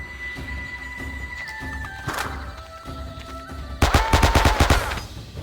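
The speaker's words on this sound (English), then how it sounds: "I don't know how he's carrying him and firing a Thompson too." Thompson submachine gun bursts in the World War II-era shooter Men of Valor, with a single sharp shot followed by a rapid, loud string of automatic fire over faint game background sounds.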